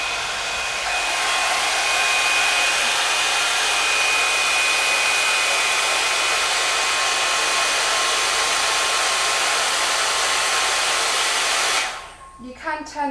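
A Babyliss Big Hair rotating hot air brush blows a loud, steady hiss of airflow with a faint whine, then cuts off abruptly near the end, leaving a few soft handling noises.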